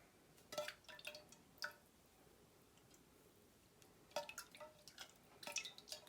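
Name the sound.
washing face with rice water, water dripping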